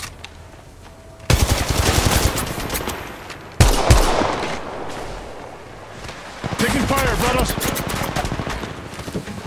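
Gunfire in Apex Legends Mobile sounds as loud bursts of rapid automatic shots, starting and stopping in several volleys, with a voice speaking over parts of it.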